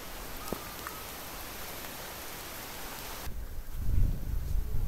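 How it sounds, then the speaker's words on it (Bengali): Rain falling outdoors as a steady, even patter and hiss, thickening into a heavier, louder downpour toward the end, with no voices. "দেখেন বৃষ্টি পড়তেছে"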